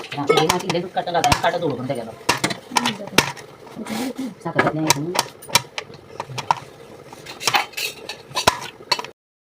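A knife chops chocolate for a chocolate cake in a run of sharp, irregular close taps against a board, while someone talks over much of it.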